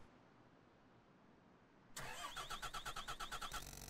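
Car engine cranking and failing to start in the Don't Escape 4 video game: after a quiet lull, a close, loud starter grinds in a rapid rhythmic churn for about two seconds, then cuts off without catching.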